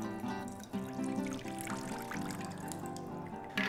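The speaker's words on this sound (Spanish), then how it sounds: "Entonces le retiro el agua." Soaking water is poured off cleaned almonds in a kitchen while making plant milk, a steady close trickle and splash of liquid running continuously with slight surges.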